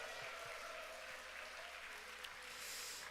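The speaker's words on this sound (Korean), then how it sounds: "그분들 위해서 한번 박수 한번." A church congregation applauds during a worship service, a steady, moderate wash of clapping that fills the room without a break.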